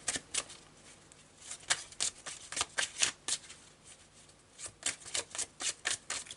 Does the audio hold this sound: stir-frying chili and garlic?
no